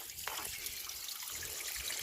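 Water trickles from a natural spring channel into an irrigation line feeding fields in a Pauri Garhwal village in Uttarakhand, a steady close rush and trickle heard alone without pause.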